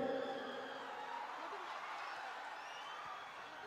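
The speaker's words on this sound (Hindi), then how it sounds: "एक बार पवन सिंह जी के लिए जोरदार तालियां बजा दीजिए" Applause and cheering from an audience at a stage award ceremony honouring Pawan Singh in Siddharthnagar, a dense steady wash of clapping and crowd noise that fills the whole stretch with only slight swells.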